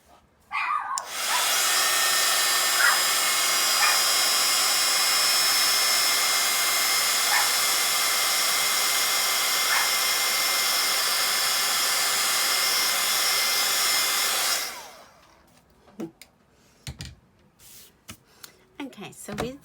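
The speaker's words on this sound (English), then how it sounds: "So get your heat tool again." A craft heat tool blows hot air with a loud, steady whooshing roar for about fourteen seconds, then cuts off, leaving light handling clicks and taps.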